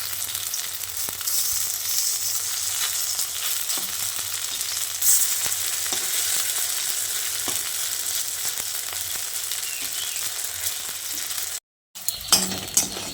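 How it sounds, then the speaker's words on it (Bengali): Drumstick fritters fry over a low-to-medium flame in a pan of oil, giving a steady, close sizzle with occasional light taps and clinks as they are turned, then a brief silence before the sizzling resumes. "লো টু মিডিয়াম ফ্লেমে বড়াগুলোকে এইভাবে উল্টে পাল্টে লালচে করে ভেজে নিয়েছি।"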